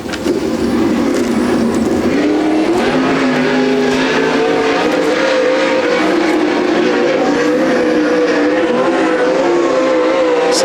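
Loud 360 sprint cars at a speedway race meeting roar and rasp while being pushed away to start, engines rising and wavering in pitch over continuous crowd-level racket.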